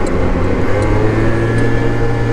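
Yamaha BWS 100 scooter fitted with a full Malossi CVT setup and reed valve, riding steadily with a continuous loud engine drone and wind rush, even and unbroken throughout with no talk.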